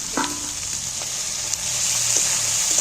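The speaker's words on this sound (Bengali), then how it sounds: "আদাটা তেলের মধ্যে দিয়ে" Ginger paste frying in hot oil for a jackfruit curry cooked with goat fat: a close, steady sizzle with a few soft stirring clinks early on, and no talking.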